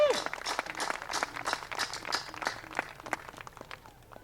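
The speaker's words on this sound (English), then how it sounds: "I'd like everybody to give Sheriff Ron Kalanquin a big round of applause." A small audience gives a round of applause for Sheriff Ron Kalanquin, with scattered, uneven clapping that starts briskly and gradually thins out over a few seconds.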